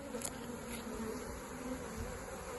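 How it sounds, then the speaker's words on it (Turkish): Young honey bees buzz at a hive in a steady, droning hum, with a few individual bees passing closer now and then. "Bunlar yavru arılar."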